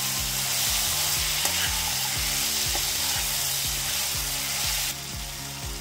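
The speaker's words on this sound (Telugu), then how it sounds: "చివరగా ఇప్పుడు మనం ఫ్రై చేసుకున్న పన్నీర్ ముక్కలు వేసుకొని" Fried paneer pieces sizzling in a pan of capsicum and tomato curry: a loud, steady hiss of frying with a quick, rhythmic scraping of stirring underneath.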